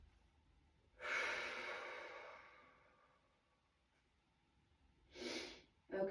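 Breathing during a somatic warm-up: a long, soft breath of about two seconds, then a second, shorter breath near the end, both quiet and close, with no talking.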